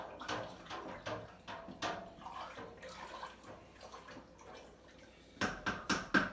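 Turkey brine liquid being stirred in a container, with quiet sloshing and swishing in a series of soft splashes and drips, faint and close, ending with a slightly louder slosh.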